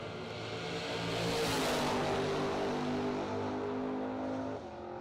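At a drag strip, a square-body pickup and a box-body Mustang launch side by side; their engines swell into a loud, rising roar, hold it, then ease off toward the end.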